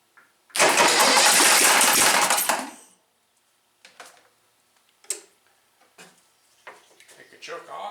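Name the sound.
rat rod golf cart engine starting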